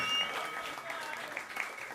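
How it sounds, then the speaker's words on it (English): Audience applause at a roast battle for the number one contender, a fairly faint, short burst of clapping that is strongest at the start and then thins out. "give a round of applause for Nick Tilelli"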